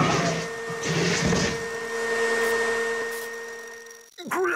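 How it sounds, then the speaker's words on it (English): A smart vacuum cleaner attacks in the video game There Is No Game: Wrong Dimension, a steady mechanical whine and hum with a rising-falling sweep near the end, alone and moderately loud. "His smart vacuum cleaner is attacking him."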